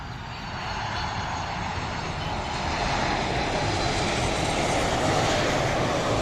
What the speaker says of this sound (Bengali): বোয়িং মডেলের বোয়িং 737 ম্যাক্স মডেলের এই বিমানটি ঢাকায়